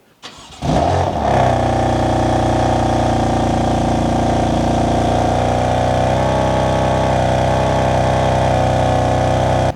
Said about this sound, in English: start this video out with a cold start of this amazing S55 engine